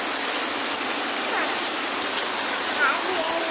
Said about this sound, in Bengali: প্রচণ্ড জোর বৃষ্টি কত উঠোনে জল জমে গেছে